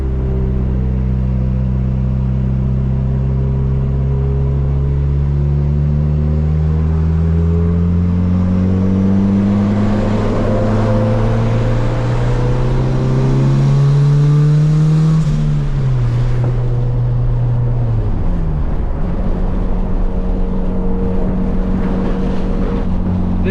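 A turbocharged Honda Civic pulls hard up a highway on-ramp, its loud engine note climbing steadily in pitch for about fifteen seconds before a gear change drops it, with wind noise around it throughout.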